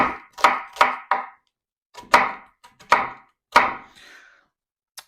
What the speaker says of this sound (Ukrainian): Беремо половинку цибульки, нарізаємо, не дорізаючи її до кінця